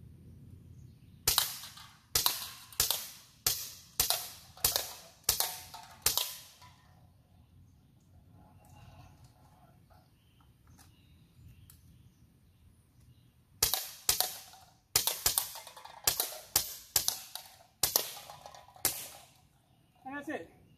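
A Gamo MP9 air pistol fires at cans in two quick volleys of sharp, evenly spaced cracks, about seven shots then a pause, followed by another rapid string, with faint handling noise between.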